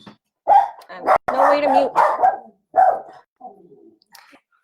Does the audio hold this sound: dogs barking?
yes